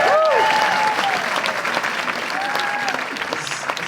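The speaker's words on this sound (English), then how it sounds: "So let's clap for her real quick." Audience applauding at a wrestling hall of fame induction ceremony, a dense wash of steady clapping that starts at full strength and holds for a few seconds with a faint voice over it.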